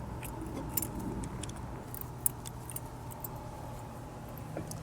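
Metal parts clink and jangle lightly while rear brake caliper brackets go onto a 2002 Lexus ES300, close and fairly quiet over a steady low hum, with a few sharper taps.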